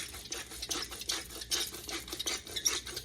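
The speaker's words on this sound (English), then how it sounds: "I'll take my whisk and just kind of stir that up a little bit." A whisk stirs crushed red pepper and other ingredients in a bowl, making a rhythmic scraping and clinking against the sides in quick, repeated strokes, close and fairly soft.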